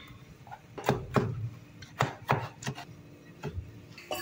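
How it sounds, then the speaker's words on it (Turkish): Tomatoes for bulgur pilaf are chopped on a board with a knife in irregular sharp knocks, several close together then scattered, close and moderately loud with no talking. "son olarak bulgur pilavımızın domateslerini de doğruyoruz"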